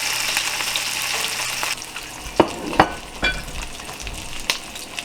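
Hilsa fish pieces frying in hot oil in a pan, a steady close sizzle broken by a few sharp spatters and clinks as the fish is turned.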